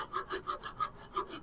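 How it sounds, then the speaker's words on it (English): A back saw cuts through wood on an acorn bottle stopper in quick, rhythmic rasping strokes, about eight close back-and-forth passes with no talking. "And then I'll finish it off with a back saw."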